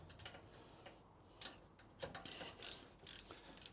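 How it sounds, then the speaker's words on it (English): A hand ratchet loosens the bolts on a 5/6 gutter machine. It gives bursts of quick, crisp clicking up close, with short pauses between strokes and no talk over it. "I like to use a ratchet."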